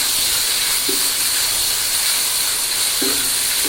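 Black cumin, chopped onion and garlic sizzling in hot oil, producing a loud, continuous close hiss with a couple of faint tonal squeaks.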